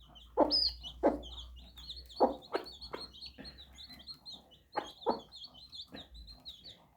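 A roughly two-year-old hen clucks among her chicks in a series of short, irregular clucks with high peeping chirps scattered between them, close by and moderately quiet.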